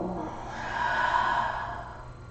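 A single long, soft exhale during a gentle yoga forward fold, a breathy rush that swells and fades over about two seconds, close and unaccompanied.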